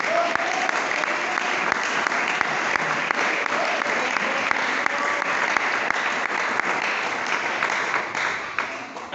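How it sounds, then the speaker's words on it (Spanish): A church congregation claps for the Lord in a long, dense burst of applause that stays loud and steady throughout, with some voices mixed into the crowd noise before it eases slightly at the end. "Y ese aplauso para el Señor, que se escuche."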